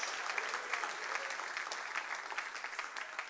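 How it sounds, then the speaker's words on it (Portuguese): A church congregation claps steadily, the applause dense and sustained at moderate volume from a room full of people, with no voices standing out. "Aplauda o nome de Jesus e glorifique a Ele esta noite"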